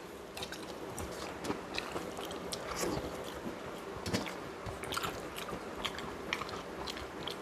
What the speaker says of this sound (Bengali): এই পটল ভাজা দিয়ে এই ভাতটা খাই।